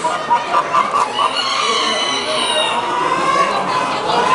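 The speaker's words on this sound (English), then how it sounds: "Here we have a collection of hens." Black Australorp hens cluck and call steadily in a close, busy flock at a chicken show, a continuous jumble of overlapping clucks and squawks with no talking.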